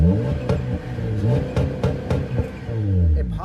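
A 2017 Honda Accord with its mufflers removed revs loud and close, its engine rising and falling in several short throttle blips with a raspy exhaust tone and no talking.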